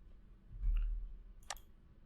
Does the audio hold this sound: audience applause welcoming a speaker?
no